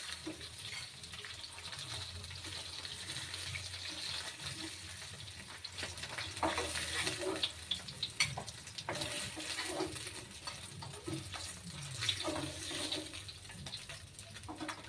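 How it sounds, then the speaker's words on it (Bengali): Fish frying in oil in a home kitchen, a continuous close sizzle and crackle with brief louder spits and clatters of turning, no voices. "মাছগুলো ভাজা হয়ে গেছে,"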